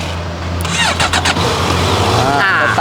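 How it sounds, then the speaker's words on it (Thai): A sport motorcycle with its stock exhaust, a used bike showing 26,000 km, starts up close by with a short cranking whine, then settles into a smooth low idle. "ครับเรามาฟังเสียงเครื่องยนต์ดู"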